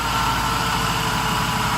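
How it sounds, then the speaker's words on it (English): A Mercedes SL600 engine runs at a steady idle with a dense, even low rumble, close and loud, no voices over it. "And the engine sort of kind of chokes."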